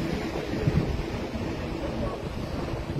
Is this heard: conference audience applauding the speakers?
no